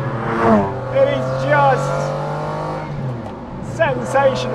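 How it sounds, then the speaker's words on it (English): Roof-mounted air intake on a car gulping air while driving, heard as a rising and falling engine-and-induction roar that sweeps up in pitch through several short pulls, with a person talking over it. "The sound of that roof-mounted intake gulping in air."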